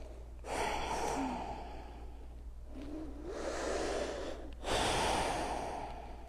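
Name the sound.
deep breathing during a yoga flow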